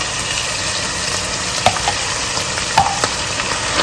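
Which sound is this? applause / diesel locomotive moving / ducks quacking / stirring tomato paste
stirring tomato paste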